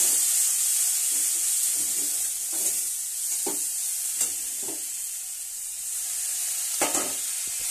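Spoon stirring snake gourd and egg curry with chilli and turmeric in a pan, with water added to cook down the masala: soft scraping strokes and a faint steady sizzle, close by, no talking.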